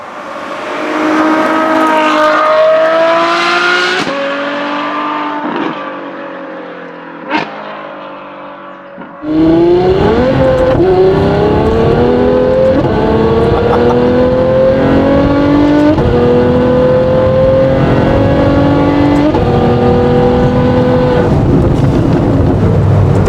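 A Novitec Ferrari F12 N-Largo R with a V12 engine revs hard and close, its rising harmonic whine climbing through repeated throttle blips before settling into a sustained loud, high-pitched howl that carries on to the end.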